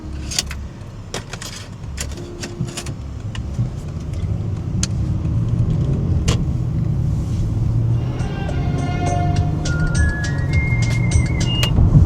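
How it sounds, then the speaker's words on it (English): A 2005 Lexus ES330 car driving, heard from inside the cabin as a steady low road and engine rumble, with scattered light clicks and jangles and a few short electronic tones toward the end. "this is kind of a good test to see how the car drives"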